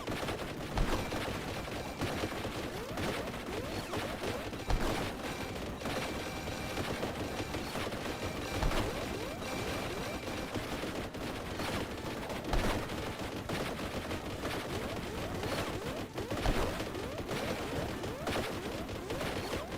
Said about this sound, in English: Bolt gun.